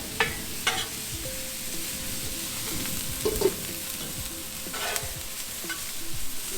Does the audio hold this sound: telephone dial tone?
no